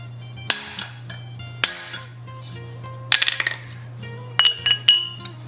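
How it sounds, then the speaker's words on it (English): Sharp metallic hammer blows ring out on annealed brass being shaped in a die, single strikes spaced apart, then quick bursts of several taps, over a low steady hum. "So I've got this annealed, just put it in there and quite simply hammer it into"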